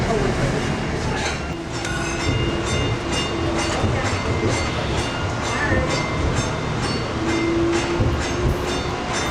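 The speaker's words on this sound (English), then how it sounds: "We're now going to take the light rail back to Penn Station" Light rail train running on the line to Penn Station, its steady rumble and rhythmic wheel clatter filling the interior at constant loudness, with a faint squeal and voices murmuring in the background.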